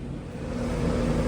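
G. Conti CS-1300 horizontal milling machine with its spindle running at 310 rpm, a steady close mechanical hum and whir that holds level without breaks.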